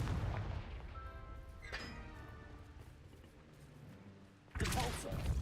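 A Confringo fire spell cast in the Hogwarts Legacy video game, heard as a sharp burst that sets off a loud, close blast near the end, following a long ringing, rumbling tail from an earlier impact.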